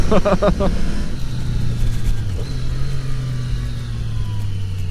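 A 2018 Triumph Street Triple RS engine pulls hard under acceleration, its steady mid-pitched drone climbing and holding close by, with a brief voice at the start.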